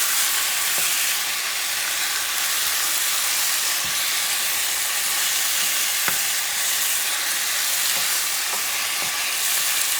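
Rabbit fricassee ingredients for a tomato-based sauce sizzle steadily in a pan, a loud continuous hiss with occasional faint pops and scrapes, no voices.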